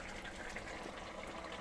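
Soaked Amul milk is poured into a simmering prawn gravy, a soft, faint gushing trickle of liquid that stays even and quiet throughout.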